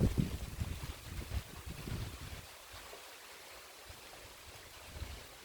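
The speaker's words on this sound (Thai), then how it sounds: "ยินเสียงไหมคะ เสียงลมนะคะ" Gusty wind roars and buffets the microphone, loudest in the first couple of seconds, then settles into a steady outdoor rush.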